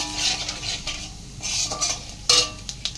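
Cumin seeds, dried red chili and a bay leaf fry as a tempering in hot oil. A crackling sizzle runs close throughout, with spoon scrapes and a sharp clink near the end, and nobody speaks.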